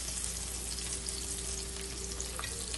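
Onions sizzle in a pan while pulao is being made, a steady, fairly quiet frying hiss with a low hum underneath that carries on without a break.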